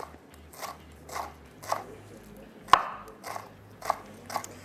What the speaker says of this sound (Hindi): पत्ते हमने ले लिए हैं मेथी के 1 कप। इसको हम कर लेते हैं बारीक चॉप।